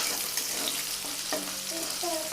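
Green chilies roasting and being stirred in a pan over a high gas flame while making sabudana khichdi: a continuous close sizzle with scraping stirs and a few clinks, no talking.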